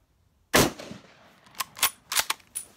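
A bolt-action rifle, an M1903 or M1917, at an outdoor shooting range: one loud, close sharp report, followed by several fainter sharp clicks and knocks, with no speech.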